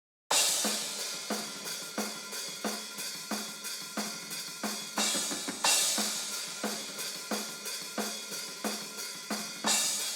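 A drum kit in a black metal mix heard through overhead mics after EQ, steady beat with crisp cymbals and snare hits repeating, bright and slightly thinned in the midrange, no voices.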